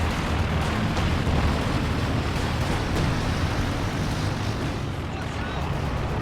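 Bombing runs in the strategy game Company of Heroes 2 during a 2v2 match: dense, rumbling explosions roll on continuously, with a commentator's voice talking over the blasts.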